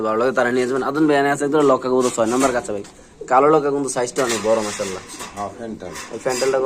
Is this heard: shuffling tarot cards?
no